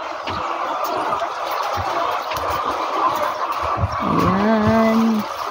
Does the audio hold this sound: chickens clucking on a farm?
yes